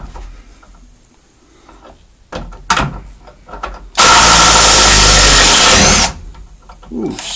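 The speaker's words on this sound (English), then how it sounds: "this impact driver just killed it" An impact driver fitted with a socket hammers loudly and close for about two seconds, preceded by a few short bursts and clatter of handling, with quieter activity around it.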